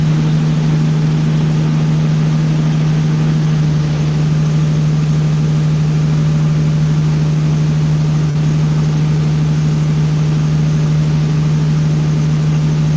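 A Corvette engine holds steady at 1500 RPM on a dyno, a loud, constant low hum with an even drone and no change in pitch, running on its own with no talking.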